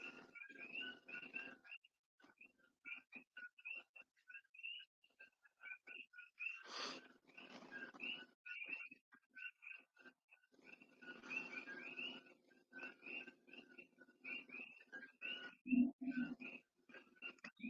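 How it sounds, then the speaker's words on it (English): Frogs call outdoors after rain at a moderate distance, a steady stream of repeated chirping croaks in irregular bursts, with some low rumbling noise between the calls. "The frogs are making all kinds of noise."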